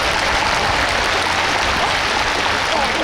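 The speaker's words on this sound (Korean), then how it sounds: "큰 박수 부탁드립니다" Dense, steady applause from a large audience at a Busan International Film Festival open talk, a loud continuous wash of clapping with no gaps, filling the space without any voices on top.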